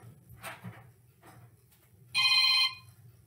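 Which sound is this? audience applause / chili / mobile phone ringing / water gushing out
mobile phone ringing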